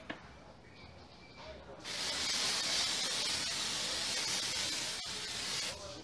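A makeup setting spray hisses in one long continuous burst onto a face, loud and close, after a quieter stretch at the start.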